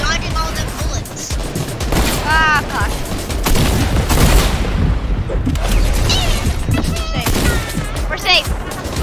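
Gunfire in the video game Fortnite, a dense stream of rapid shots and booms running throughout, loud and close, with game sounds and voices mixed in.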